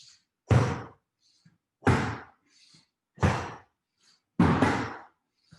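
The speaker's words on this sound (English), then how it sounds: "Rainbow slams. Take your ball. Slam it around." An exercise ball is slammed on the floor during an adaptive fitness class, four heavy thuds spaced over a second apart, each with a short rebound, near and loud against near silence.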